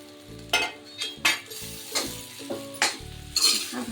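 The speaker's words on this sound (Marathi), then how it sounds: "भात घालून छान परतून घेऊया" Leftover rice is stir-fried in a pan with spices, and repeated spatula scrapes and clinks against the pan land about every half second over a soft sizzle, close and clear.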